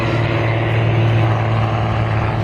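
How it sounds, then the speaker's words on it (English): An original vintage propeller airplane fitted with a modern engine runs at an air show weekend, a loud, steady droning engine and propeller hum that stays even and close throughout. "It's a classic airplane with a modern engine."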